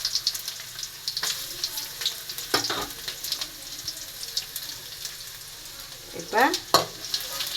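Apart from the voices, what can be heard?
garlic, cumin and fenugreek frying in a pan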